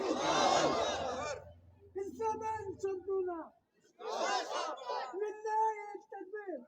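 A crowd at a religious gathering loudly chants the slogan Lillahe Takbir in a dense, roaring burst, followed by someone speaking alone in short phrases.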